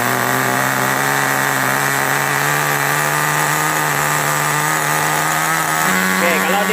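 A freshly installed RC nitro car engine being broken in revs with a loud, steady, buzzing whine close by that shifts slightly in pitch near the end as the throttle is adjusted.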